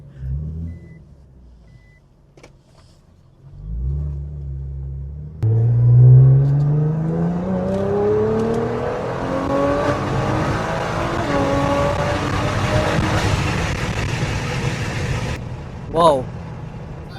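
A Nissan GT-R accelerates hard in third gear after a brief idle, its engine pitch climbing steeply for several seconds with a loud, close roar, then a quick rev near the end while people talk.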